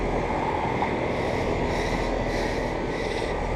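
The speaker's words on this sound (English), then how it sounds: "It's also a heat pump from 2016" A 2016 Trane 4-ton heat pump running at a storage facility, giving a steady, continuous broadband whir and hum from fan and compressor, constant in level throughout with no talk.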